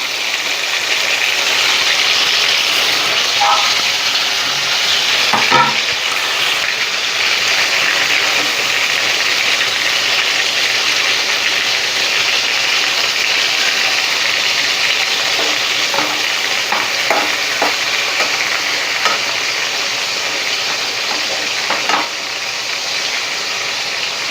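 Masala paste made with milk fries for a stuffed eggplant curry, a loud, steady close-up sizzle running throughout with occasional soft scrapes and taps of stirring.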